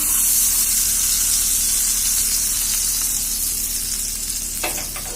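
Hot ghee is poured into mango-flavoured rice kheer and crackles close up. A dense, even sizzle fills the whole stretch, with a brief sharper burst near the end and no talk.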